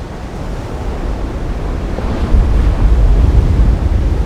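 Roaring surf of big ocean waves crashing at the Nazaré shore break, a broad continuous wash that swells louder midway, with wind buffeting the microphone.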